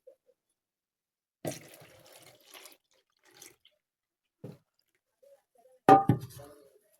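Whey water drains from homemade cottage cheese in a few sparse drips and small splashes, separated by long quiet gaps, close and distinct.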